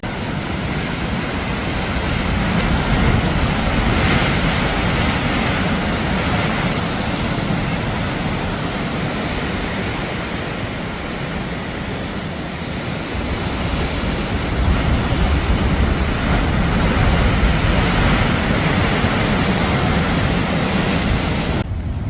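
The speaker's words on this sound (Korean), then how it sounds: "오늘 날씨가 흐려서 그런지 파도는 더욱 칩니다." Loud, continuous roar of Atlantic surf crashing and washing ashore at Porto, Portugal, on an overcast day, broad and rumbling with no voices, mixed with a bit of wind.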